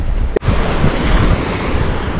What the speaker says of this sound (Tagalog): Maalon ngayon, no?